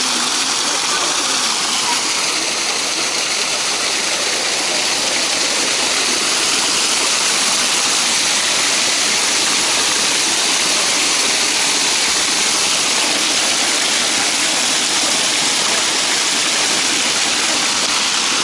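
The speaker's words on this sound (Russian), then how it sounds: "Просто между пластов столько воды выходит." Spring water gushing out between rock layers on a hillside like a waterfall, on a Pechory and Izborsk route: a loud, steady, close rushing roar that continues unbroken throughout.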